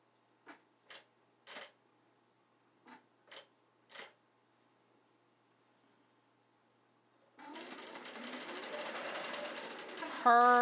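A computerized quilting sewing machine stitches a nested pantograph design on a quilt, starting after several soft clicks and taps and then running as a steady, close, rapid mechanical rattle that swells louder near the end.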